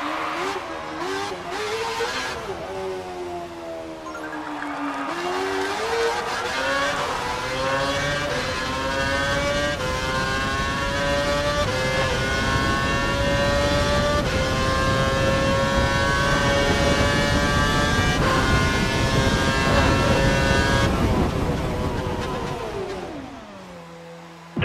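A Formula One car engine in the F1 2012 racing game, running at normal engine mode against the clock, revs high and steady with rising and falling harmonic whine through gear changes, loud and close for most of the run.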